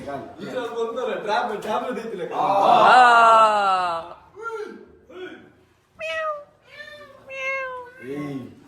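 A person imitates a cat, giving drawn-out, whiny meows at a crowded premiere show, with a long rising meow in the middle and shorter mews near the end, mixed with nearby talk and crowd noise.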